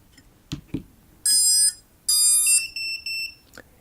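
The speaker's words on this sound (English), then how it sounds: "It sounds the same volume as the other buzzer, but that's because that's just the setup alert." Vifly Finder 2 drone finder buzzer sounding its setup alert: two soft clicks, then a sequence of loud, piercing electronic beeps of varying length, close and alone.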